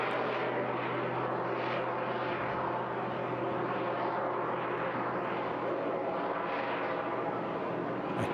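A large aircraft hovers at an air show, giving a steady, loud, continuous engine roar with a low drone that holds without a break throughout.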